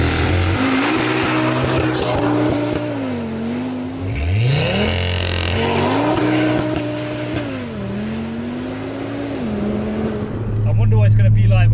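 A VW Golf R fitted with a 640 bhp 2.5-litre Audi RS3 engine revs through gear changes, pitch climbing and dropping with sharp downshift bursts, loud and close from inside the car.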